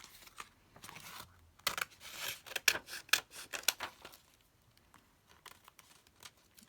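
Scissors trimming a paper book page for a handmade journal, a close cluster of crisp snips and paper rustles in the middle, quiet before and after.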